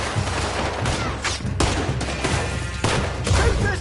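Dense, loud bursts of gunfire from a PS4 video game, rapid overlapping shots forming a continuous fusillade with brief surges, no talk heard.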